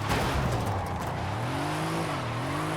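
A Mercedes car in the video game Forza Horizon 5 drives at speed, its engine droning steadily with rising and falling pitch, loud and continuous throughout, no talk.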